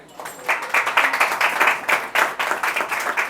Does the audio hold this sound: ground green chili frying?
no